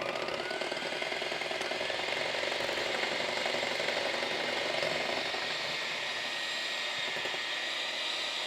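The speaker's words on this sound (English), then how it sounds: "Now when we're mixing this all together, we're going to be looking for the peaks in these egg whites as well" Egg whites being beaten with sugar into peaks by an electric mixer give a steady, continuous whirring buzz with a bright hiss, loud and unbroken throughout, with no talking.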